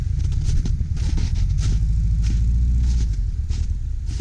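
A Subaru Forester XT with a turbo idles nearby at a winter trail run, its engine giving a steady low rumble with slight rough pulsing throughout and no voices over it.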